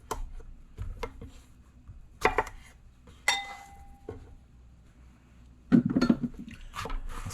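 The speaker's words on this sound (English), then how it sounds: "Then we're going to chop the ends off." A knife chopping the ends off a cucumber on a board, a few sharp separate knocks and clinks at irregular gaps, close and fairly quiet amid faint kitchen clatter.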